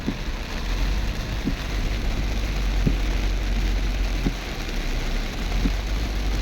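Heavy rain pours steadily around a car driving a waterlogged road between Tacorong and Marbil, a constant dense hiss over low engine rumble, with faint regular ticks from the wipers and no talking.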